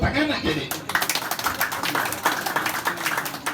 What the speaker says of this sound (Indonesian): Tepuk tangan aja deh.